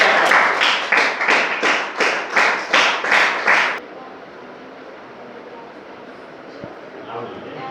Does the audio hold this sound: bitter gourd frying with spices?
no